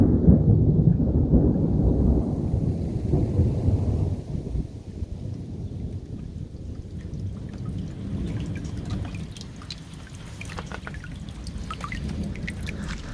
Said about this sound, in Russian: Вот сегодня прям дождь льет